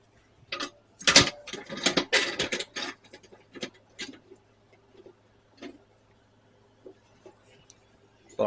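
Socket wrench ratcheting in a small workshop, a fast burst of loud clicking followed by slower, spaced ratchet ticks that fade to occasional clicks, close by and without talk.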